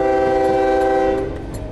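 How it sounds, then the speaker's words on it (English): A loud, close train horn sounds a sustained chord over rumbling rail noise, holding steady before tapering off near the end. "So why are the train horns inconsistent"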